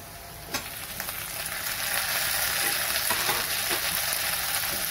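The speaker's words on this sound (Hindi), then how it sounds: "अब मैं फ्लेम को लो कर लूंगी और इसमें मैं टमाटर को ऐड करूंगी।" Chopped tomatoes go into a pan of golden-brown fried onions over low flame, setting off a steady, loud broadband sizzle that swells after a sharp clatter and keeps crackling with stirring scrapes, no voices.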